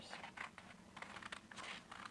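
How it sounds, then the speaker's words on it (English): Scissors opening and closing as they cut through paper while the sheet is turned, giving a run of close, crisp snipping and crunching sounds in quick, uneven bursts with no speech. "As you cut, your scissors don't really move that much. They just open and close as you turn the paper."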